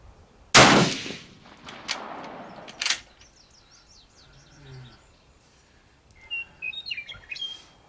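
A single loud, sharp gunshot rings out at an outdoor shooting range, followed by a decaying echo and a few faint metallic clanks. Birds chirp in the background before and after the shot.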